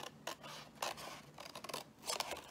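Scissors cutting paper for a scrapbooking chocolate box, several quiet crisp snips and rustles in short irregular bursts, close and faint with no talking.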